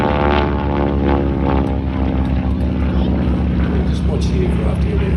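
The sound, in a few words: radial engine propeller aircraft flying aerobatics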